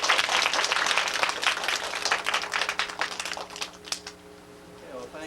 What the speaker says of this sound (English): So we'd like to applaud Mayor McClintock and thank him.